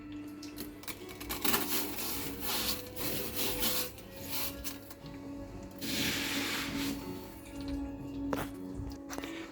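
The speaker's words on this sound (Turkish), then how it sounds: "Yavaş yavaş kumlarımızı döküyoruz." New aquarium sand is poured slowly into a tank, giving soft, continuous gritty rubbing and trickling with gentle swells and a few brief louder hisses, close and fairly quiet.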